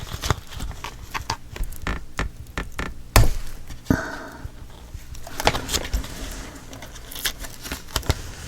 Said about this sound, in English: I'm going to go ahead and take my score tape off